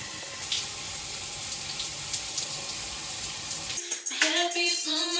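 Water runs steadily from a bathroom sink tap during a nighttime face wash, a continuous hiss that cuts off near the end, leaving brief clinks and faint handling sounds.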